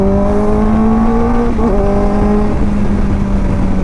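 Kawasaki ZX-4R motorcycle pulling hard at full throttle in first gear, a loud, steady rising engine note that dips briefly mid-way as it climbs, heard close with no talk over it.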